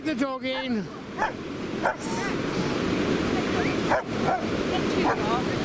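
A dog barks and yelps repeatedly at Perranporth beach, starting with a loud close bark and continuing with sharper yips over steady surf, while people talk nearby.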